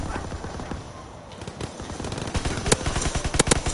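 Rapid bursts of video game gunfire crackle in quick succession, sparse at first and then growing louder and denser toward the end, with no clear voices.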